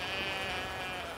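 A sheep bleats in The Witcher 3 video game, a single sustained wavering bleat heard fairly close, with no talking.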